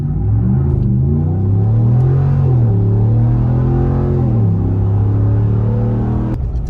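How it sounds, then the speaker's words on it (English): A 2019 Ram 1500 pickup fitted with a Corsa cold air intake pulls away hard from a standstill, its deep engine note rising and falling through gear changes, loud and steady, heard from inside with the windows up. "this is Corsa cold air intake from a dig"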